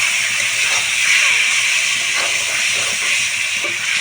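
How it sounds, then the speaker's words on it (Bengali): Lote (Bombay duck) fish, marinated in lemon, salt and turmeric, frying in a hot wok gives a steady close broadband hiss and sizzle, running continuously throughout with faint crackles. "লোটে মাছটা আমি লেবু লবণ ও হলুদ দিয়ে মাখিয়ে রেখেছিলাম এখন আমি এর মধ্যে দিয়ে দেবো দিয়ে হালকা কষিয়ে নেব"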